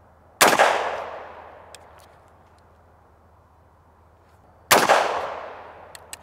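Two sharp, close 300 Blackout subsonic shots from a Palmetto State Armory JAKL 8.5-inch rifle firing 220-grain ammunition that fails to cycle. The reports are about four seconds apart, each fading quickly, with a light click between them and a low hum underneath.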